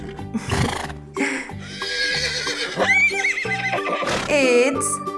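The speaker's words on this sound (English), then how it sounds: "It's a horse." A horse neighs in a children's farm-animal song, loud whinnies with hoof clip-clops, all over cheerful music.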